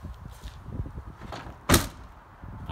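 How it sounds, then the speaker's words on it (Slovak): A Honda Jazz Crosstar car door shuts with a single solid thud, loud and close, after a stretch of soft rustling as a double bass is packed inside. "Zavrieme dvere."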